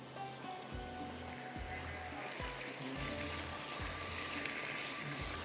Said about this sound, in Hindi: इसको थोड़ा सा मैं फ्राई करूँगी।